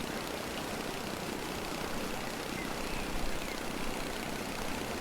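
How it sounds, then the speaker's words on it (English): A steady, droning engine hum from a jet ski in the video game A Short Hike runs continuously at an even level, with no talking over it. "This is the jet ski."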